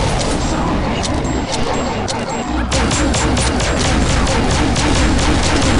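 Rapid, loud pistol gunfire bursts in the video game Counter-Strike over dense noise and a constant rumble, with shots cracking in quick succession.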